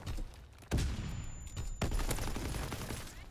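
Gunfire in Call of Duty WW2 multiplayer, two sharp shots standing out over a busy background of distant rattling weapons and battle noise.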